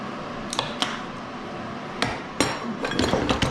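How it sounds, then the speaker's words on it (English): Woodworking clamps coming off glued miter joints, with sharp metallic clanks and knocks as each clamp is released and set down, several irregular close hits over a faint background hiss. "So let's remove this clamp, that clamp,"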